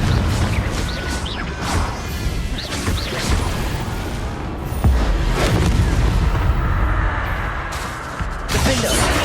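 Confringo blasting spell explosions in the Hogwarts Legacy video game, a run of loud booms and crashes with whooshing bursts amid dense battle noise, spread across the whole stretch.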